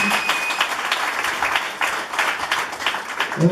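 A church congregation applauds at a ceremony honouring a pastor, dense steady clapping from many hands filling the room, with a voice briefly heard at the end.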